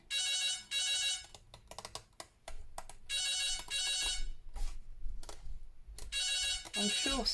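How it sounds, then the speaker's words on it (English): A telephone bell rings in repeated bright bursts, three clear rings spaced a few seconds apart, with someone talking in the gaps between them indoors. "Typical, the phone's ringing."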